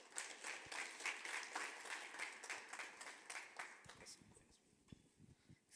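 Scattered, fairly quiet audience applause at a jazz festival launch event, individual claps distinct and gradually thinning out toward the end.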